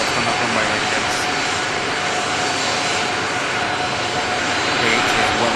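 Jet engines of an Airbus A380 at Manchester Airport, a steady, loud, broad roar that holds evenly throughout without pause.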